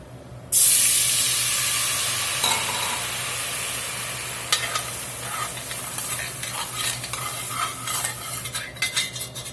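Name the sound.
sizzling pot deglazed with dry white wine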